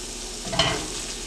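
Curry leaves dropped into hot oil with chicken in a pan for chicken mezhukkuvaratti, giving a steady close sizzle that swells into a brief burst of crackling and stirring before settling back.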